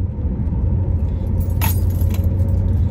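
Car key fob and keys jangling inside a moving car, a couple of bright metallic rattles over a steady low engine and road rumble.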